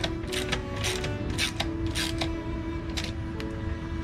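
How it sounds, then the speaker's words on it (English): A ratchet tightens the link pipe bolts on an aftermarket motorcycle muffler, with rapid close clicking in short bursts over a steady background hum, and no talk. "I usually start by tightening the link pipe first"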